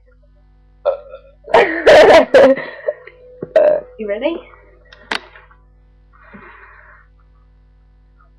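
A man lets out a long, loud, rattling burp followed by a few shorter croaky ones, close up, with brief talking around them.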